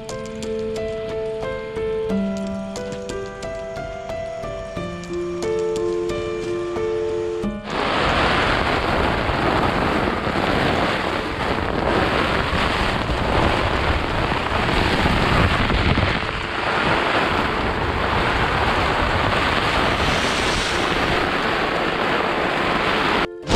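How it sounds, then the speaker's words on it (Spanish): Heavy rainstorm pounds a tent in a loud, steady roar amid strong wind in the Altas Cumbres mountains of Córdoba, following a brief stretch of music at the start. "Muy fuerte la tormenta, no lo puedo creer."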